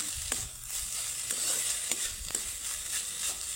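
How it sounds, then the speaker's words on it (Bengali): A spoon stirs potato spice mix with amchur powder in a pan, several soft scraping strokes over a low, constant sizzle, close and fairly quiet. "আমচুর পাউডার দিয়ে দিলাম, এখন মিক্স করে নেব।"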